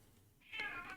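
A house cat lets out a loud, drawn-out meow after a brief quiet moment, followed by a second shorter call, close to the microphone with no talk over it.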